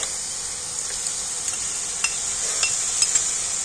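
Spices and beaten sour yogurt being stir-fried for a taro curry, a steady close sizzle with light stirring and a few soft clinks of a spatula against the pan.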